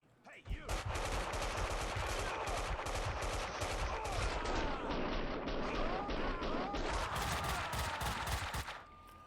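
Dense, continuous gunfire from Max Payne 2 fills the scene for about eight seconds, with rapid overlapping shots and heavy booming bursts, loud and close throughout.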